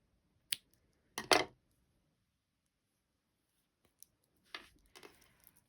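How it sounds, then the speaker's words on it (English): Scissors snipping yarn at a crochet project, heard as a few sharp, close snips separated by quiet pauses, with softer rustling handling near the end. "now I'm gonna snip the last color"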